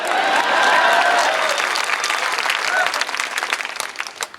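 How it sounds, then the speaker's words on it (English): An audience applauds at a political campaign speech in Des Moines, a loud wash of many hands clapping that swells early and then thins out toward the end. "You can clap for that."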